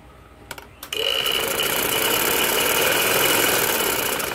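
A sewing machine stitching a ladies' kurti gives a few light clicks, then runs into a steady, loud, continuous whir that holds to the end.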